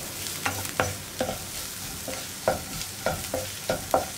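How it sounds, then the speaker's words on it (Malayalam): Turmeric powder and onions being stirred in a hot pan, a spoon scraping the metal in repeated sharp strokes, roughly a dozen uneven scrapes over a faint steady sizzle, close up with no talking. "ഈ മഞ്ഞൾപ്പൊടിയുടെ റോ സ്മെല്ല് മാറി വരുന്നത് വരെ ഒന്ന് ഇളക്കി കൊടുക്കുക"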